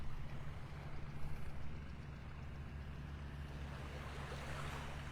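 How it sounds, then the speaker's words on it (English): A John Deere tractor rumbles along a beach in North Naples, Florida, as a steady low engine drone that is partly masked by constant surf and wind noise. "hear the John Deere tractor coming up the beach behind me."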